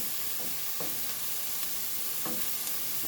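Chopped onions sizzling in a pan on a stove set just above medium for a homemade pasta sauce, a steady close frying hiss with faint crackles and a few soft stirring scrapes, no talking.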